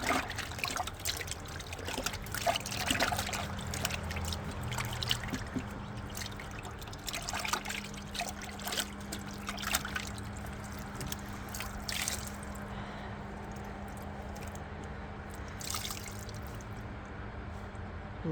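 Water trickles and splashes softly while dyed wool is rinsed, faint irregular dribbling and drips over a low steady background hum.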